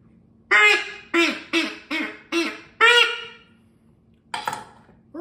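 A duck call is blown in a run of six loud, close quacks in a quick even rhythm, then a pause and a rougher honking blast near the end.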